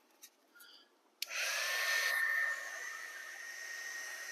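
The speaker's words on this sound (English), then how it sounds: "I'll bring my heat gun over." Heat gun switched on over freshly painted model rock work on a model railroad layout, a few small taps, then a sudden steady loud blowing roar that settles slightly lower and keeps going.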